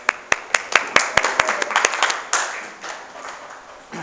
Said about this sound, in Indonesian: Ya, bagus sekali. Tepuk tangan.